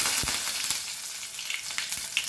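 Curry leaves dropped into hot oil give a bright, crackling, hissing sizzle with quick spits and pops, close and fairly loud over a brief burst without talk.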